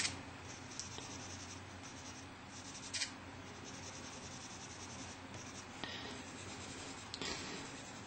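A crayon or pencil colours yellow into a coloring book with a quiet, continuous scratchy rubbing, broken by a few light taps and louder strokes, heard close up and alone.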